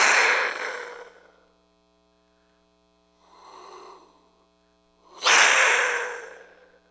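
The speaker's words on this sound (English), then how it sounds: "So the jaguar whistle sounds like this." A jaguar whistle is blown three times at close range, each blast a breathy, rasping roar-like rush: a strong first blow, a softer middle one, then a loud final blast.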